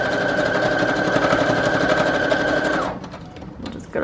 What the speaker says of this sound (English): I'm just going to sew right down the center here.